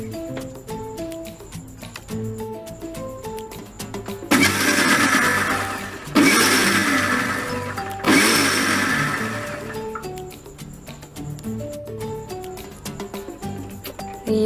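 An electric mixer grinder whirs loudly in three bursts, blending homemade mayonnaise in a home kitchen, with soft background music playing throughout and between the runs.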